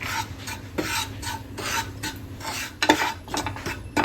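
Chili powder and coriander powder being stirred in a pan for a breadfruit curry, a spoon scraping and rasping in regular strokes at close range with faint sizzle and no voices.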